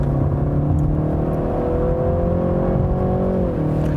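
A BMW 3-Series sedan of about 3,600 pounds, in sport individual mode, revs hard under full throttle, its engine droning loudly and steadily close by, the pitch climbing slightly before easing near the end.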